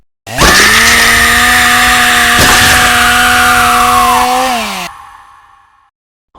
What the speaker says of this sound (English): Now it's time to chop you all with the chainsaw.